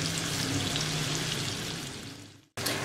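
Boneless chicken strips fry in a pan over low to medium flame for garlic butter chicken, a steady close sizzle that fades slightly, drops out briefly, then resumes.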